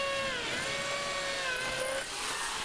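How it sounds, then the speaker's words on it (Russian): An alloy drill bit bores into a brake disc, giving a steady, high, grinding metallic whine that holds continuously and stays close and fairly loud. "Вот, смотрите, диск тормозной сверлит он ею."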